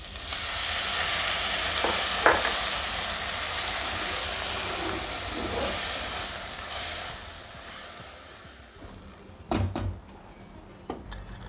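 Green and red capsicum frying with tomato in a pan give a steady, close sizzle and hiss throughout, broken by a few sharp stirring clatters, with no voices.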